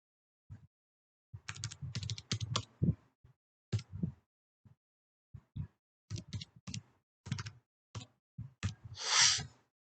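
Keys clatter on a computer keyboard as a registration number is typed in, bursts of close clicking with short pauses and a longer hiss-like press near the end.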